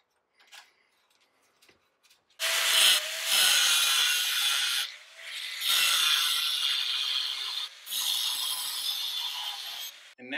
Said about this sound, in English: So now I need to grab my angle grinder and cut this one in half.